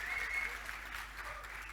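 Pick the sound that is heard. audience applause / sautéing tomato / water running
audience applause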